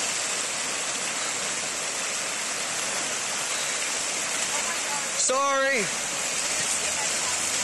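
Water gushing down a street from a crushed water main, a steady loud roaring rush like a waterfall that fills the whole stretch, with a brief spoken word partway through.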